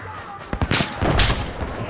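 Gunfire in the Battlefield 4 shooter game, a scattered volley of sharp shots and bursts at close range, with several loud cracks clustered in the middle and brief talk mixed in.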